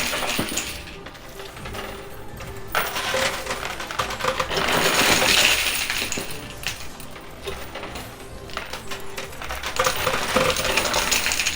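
Coins and poker chips clatter and drop continuously in a high-limit coin pusher machine stacked with a chip tower, a dense metallic jingle with repeated cascades and surges of clinking throughout.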